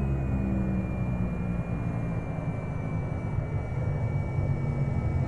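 A Cessna C208 Caravan in X-Plane gives a steady, loud, droning single-engine turboprop roar with a faint high whine, constant and unbroken throughout with no talking.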